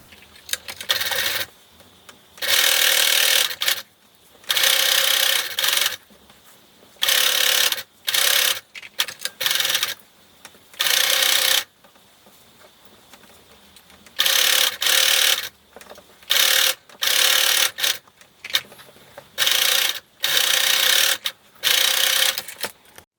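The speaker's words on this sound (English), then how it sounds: "we're going to sew from this notch across to this notch" A sewing machine stitches across a jacket seam in repeated loud, whirring bursts of a second or two, separated by short pauses, close and alone with no talking.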